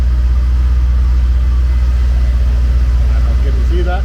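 A 1980 Triumph TR7 engine running as it warms up, a steady low idle rumble with a constant hum, close and unbroken, with faint speech-like sounds near the end.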